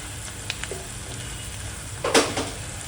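Four chopped onions frying in oil with bay leaves, a steady low sizzle with a few stirring scrapes and a brief louder crackle near the end.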